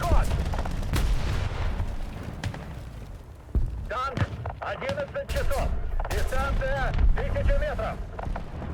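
Gunfire echoes in the War Thunder video game, scattered bursts and single shots at moderate distance heard under wind noise, while someone talks over them.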